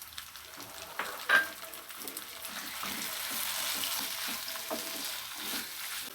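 Chicken frying in a pan for a bakery-style chicken samosa filling, a soft steady sizzle with stirring scrapes and a clink of the spoon, no talking.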